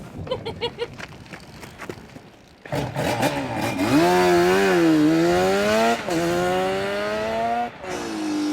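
Yamaha TDR 250 two-stroke motorcycle, a few sharp popping blips at idle, then the engine starts and revs loudly, its buzzy tone rising and falling through several throttle sweeps close by.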